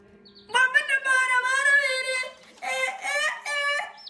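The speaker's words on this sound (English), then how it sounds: "These are beautiful chickens." Chickens sound off nearby in two loud, drawn-out vocal bursts, a long harmonic squawk followed by a shorter one after a brief pause, with no talking.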